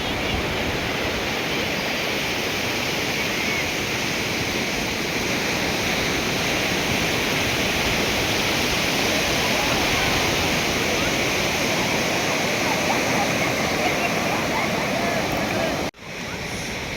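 Sea waves wash steadily onto Devgad beach, a continuous broad roar of surf with no breaks, heard close and loud with no voices standing out.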